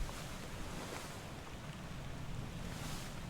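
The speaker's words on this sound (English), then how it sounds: "These are some choppy waves." Choppy ocean waves in the video game Return of the Obra Dinn wash in a steady, soft, continuous roar with gentle swells, fairly quiet and with no voices.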